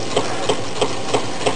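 Candle-powered Meccano Stirling engine running steadily, a loud close mechanical hum with a soft regular knock or tick about three times per second, no voices.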